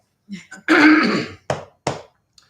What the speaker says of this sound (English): By the next live stream, I won't be coughing as much, if not at all.